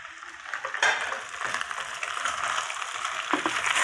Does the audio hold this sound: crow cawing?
no